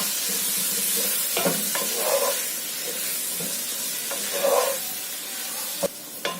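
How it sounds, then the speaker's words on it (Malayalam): Chopped tomato sizzles in a hot pan of masala for a Kerala-style chicken curry, giving a steady frying hiss with occasional stirring scrapes and no talk. "ഇനി ഇതിലേക്ക് അരിഞ്ഞു വെച്ചിരിക്കുന്ന ഒരു തക്കാളി,"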